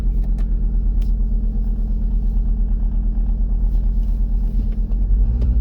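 Audi RS3 fitted with 034 Motorsport StreetSport engine mounts, driven at night: a loud, steady low engine rumble and road drone continues throughout with no speech.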